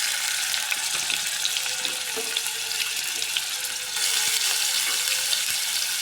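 Crushed ginger, garlic and onion sauté in coconut oil in a kadai, giving a loud, continuous hissing sizzle that swells a little partway through, with no talking.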